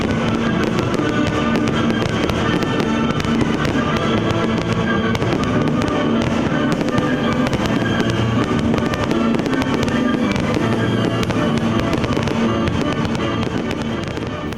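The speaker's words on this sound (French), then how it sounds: "le plan d'eau du Fort Saint-Martin avec le spectacle pyrotechnique du 13 juillet" A pyrotechnic show for 13 July over the lake at Fort Saint-Martin, with dense, continuous bursts and crackles rumbling steadily and loudly for the whole stretch, no pauses between explosions.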